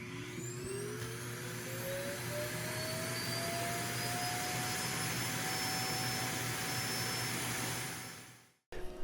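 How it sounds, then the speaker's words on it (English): A self-emptying robot vacuum cleaner runs over carpet with a loud, steady whirring drone and a whine that climbs in pitch early on, holding constant before cutting off abruptly near the end. "Twice a week it goes through and vacuums this whole level"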